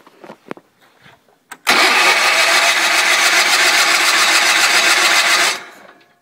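A 1974 Sears Suburban SS16 tractor engine, sitting on a slope after water came out of its exhaust, cranks briefly, then catches and runs loud and steady for about four seconds before cutting off, with a few faint clunks beforehand.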